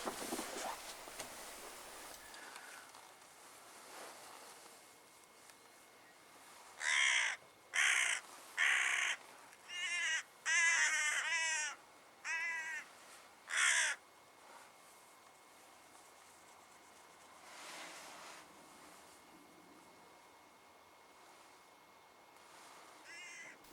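Hooded crows call from the ground in a reedy field, a run of loud, harsh caws in a cluster of about eight calls midway through, with quieter wind and faint calls before and after.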